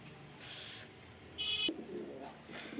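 Fancy fantail and lakka pigeons make soft cooing calls against a faint, steady background. A brief brighter call rises midway before the quiet cooing resumes.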